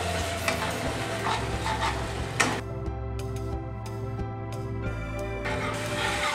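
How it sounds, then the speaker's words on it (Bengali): Onion paste frying in a pan for a spicy Bengali katla fish curry, a close sizzle with stirring scrapes for a couple of seconds, then a tonal mechanical hum taking over. "নিয়ে 2 মিনিট মতন আবার ভালো করে অনিয়ন পেস্টের সাথে ভালো করে কষাতে হবে"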